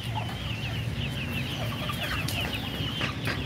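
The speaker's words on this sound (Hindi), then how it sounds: "एक ये मुर्गी भी बैठी हुई अंडों पे वाइट, ये पहली दफा बैठी है" White hens, one brooding on eggs, cluck and murmur in a home coop, with close, steady, overlapping clucks and soft chirps running throughout and no talk.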